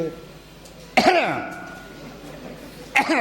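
Two sharp, forced coughs, one early and one near the end, separated by quiet with a faint tone lingering after the first.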